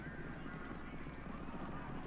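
Horse hooves clip-clop in a steady running rhythm during a roleplay horse race in a video game, continuous and moderately loud under a busy game mix.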